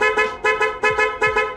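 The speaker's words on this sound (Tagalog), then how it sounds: "Yung G-star horn," Loud G-star aftermarket horn on a Mio i 125 scooter, honking in about seven short rhythmic blasts with a rich brassy tone, close and alone.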